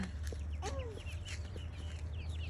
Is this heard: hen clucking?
yes